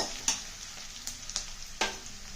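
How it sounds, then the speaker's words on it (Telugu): Curry leaves, chopped onion and garlic fry in hot oil for a tempering for bottle gourd pulusu, giving a steady close sizzle broken by three or four sharp crackling bursts. "కరివేపాకు వేసి కొంచెం వేగనిద్దాం ఉల్లిపాయ కూడా వేసాను"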